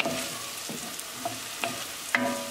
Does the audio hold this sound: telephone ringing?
no